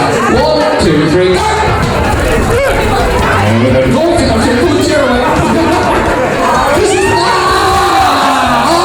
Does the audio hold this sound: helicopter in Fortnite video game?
no